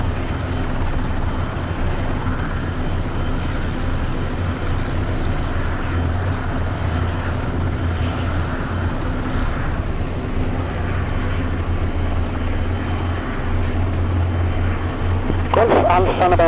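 Spitfire and Hurricane propeller aircraft engines run steadily on an airfield at runway 19, a continuous low droning roar that holds throughout, with a brief higher mechanical burst near the end.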